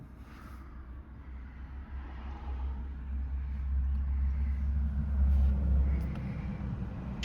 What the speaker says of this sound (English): There's a familiar sound there, sounds a bit tappety.